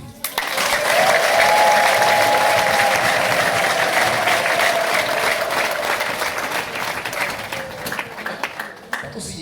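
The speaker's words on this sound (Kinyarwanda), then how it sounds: "Yesu mumupe n'amashyi." A church congregation breaks into sustained applause, a dense wall of clapping that swells quickly and holds for several seconds before thinning, with a voice calling out briefly over it.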